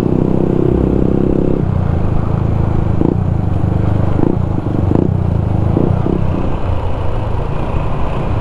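Loud motorcycle exhaust roars continuously while chasing a mountain bus near Brastagi, a dense steady engine drone with a few sharp blips or claps rising over it.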